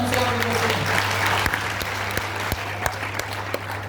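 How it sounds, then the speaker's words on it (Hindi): An audience at a university poetry recital breaks into loud, sustained applause, a dense roar of clapping with a few sharp individual claps standing out over a steady low hum. "तो तालियां आप एक बार जोरदार बजाइए"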